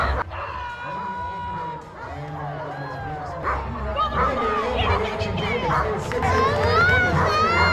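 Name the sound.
puppy barking and yipping at dog event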